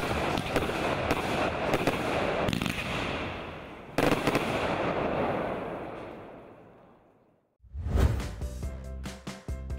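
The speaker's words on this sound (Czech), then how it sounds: "která bude zakončena ohňovou show a ohňostrojem" Fireworks burst at an evening town festival in Kolinec, Czech Republic, where a dense crackling barrage sounds for several seconds, fades toward silence, then resumes with loud booms and sharp crackles.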